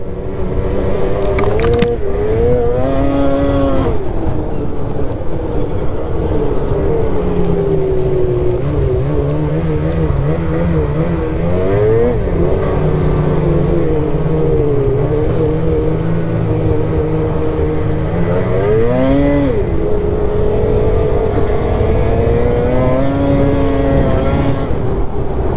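A Polaris RMK Boost snowmobile engine revs hard and close, with its pitch climbing and falling across several long throttle sweeps over a steady loud roar. There is no talking.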